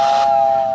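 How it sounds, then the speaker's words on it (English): An American Flyer toy train sounds its built-in two-tone air whistle, a short steady whistle tone with airy hiss, close and fairly loud. "you hear the two-tone air whistle."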